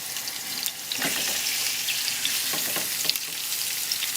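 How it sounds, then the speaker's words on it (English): Two onions caramelizing in a pan, a steady close sizzle and crackle with occasional stirring scrapes throughout. "you really have to be patient with the caramelization of the onions. It has to have that sizzle"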